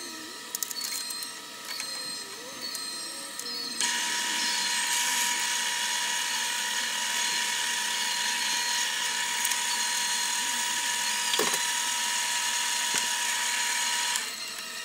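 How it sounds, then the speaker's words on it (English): A drill bores holes in a clamped bloodwood knife handle for a fillet knife, giving a high, steady whine that stays close and loud for about ten seconds, with a few clicks and knocks at the start. "One set of holes drilled."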